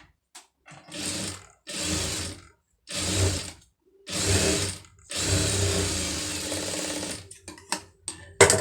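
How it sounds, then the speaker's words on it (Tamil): A sewing machine stitches a pom pom design into a garment sleeve. Its motor whirs in several loud, steady bursts of one to two seconds, with short pauses between them and one longer final run, and no voices. "இப்போ இதில் வந்து ஒரு படிமான தையல் வந்து போட்டுருங்க"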